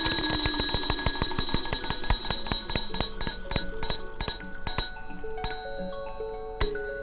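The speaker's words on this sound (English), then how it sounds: "triggers a bell" A small bell triggered by an early electric telegraph rings in a rapid series of bright metallic strikes, loud and close, the ringing gradually slowing and thinning out.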